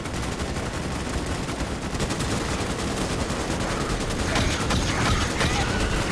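Sentry guns in the game Starship Troopers: Extermination fire steadily, a dense continuous rattle of automatic gunfire that swells slightly louder near the end, with no voices.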